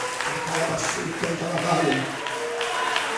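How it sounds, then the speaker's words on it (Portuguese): Church congregation clapping during a preacher's sermon, a steady, moderately loud patter of many hands under a voice speaking over it throughout. "Aplauda Jesus, mas com toda a força"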